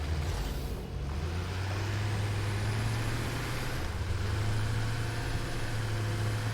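A coal truck drives in the video game Satisfactory, a steady low engine rumble with road noise rolling on without a break, fairly quiet and with no talk.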